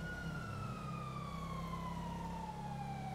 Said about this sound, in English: Why the sirens?